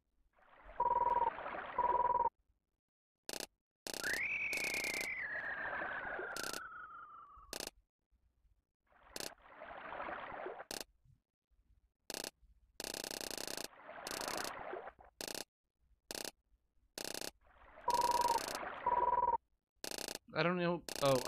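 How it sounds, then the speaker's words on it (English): Frog croaking sound effects from the SNES fishing game Bassin's Black Bass with Hank Parker, heard as short bursts repeating among electronic game tones and a falling synth sweep, with a voice talking over parts of it. "Oh, I think that noise is like frogs."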